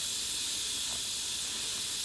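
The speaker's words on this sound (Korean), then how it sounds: "이 작은 기차역을 유명하게 만든 건 바로 이 귀여운 증기기관차." Steam forest locomotive, the last surviving wood-fired logging train in Europe, built about 80 years ago to haul timber, releasing a steady broad hiss of escaping steam close by, with no voices.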